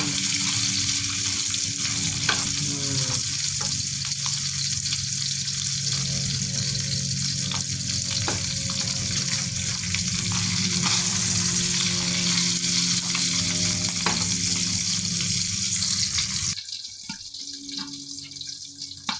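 Meat fries in a pan after being softened in soy-seasoned water with calamansi, a loud, steady crackling sizzle that runs continuously, with occasional sharp pops and faint clinks, then drops abruptly to a quieter hiss near the end.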